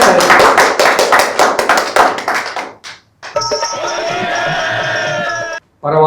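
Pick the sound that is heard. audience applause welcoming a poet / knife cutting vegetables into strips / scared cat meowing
audience applause welcoming a poet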